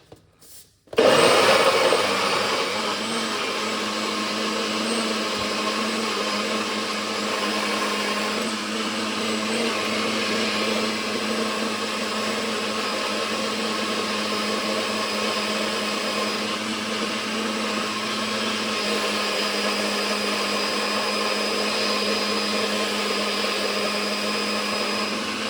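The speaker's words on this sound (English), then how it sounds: "Let's blend up this and make some noise." Kitchen blender whirring through pineapple and cucumber, a loud, steady motor roar that starts abruptly after a brief quiet moment and runs continuously for over twenty seconds.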